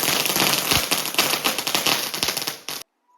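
Rapid crackling bursts of firecrackers going off in a dense, loud string for nearly three seconds, then cutting to near silence, during Vishu festival celebrations in Kerala.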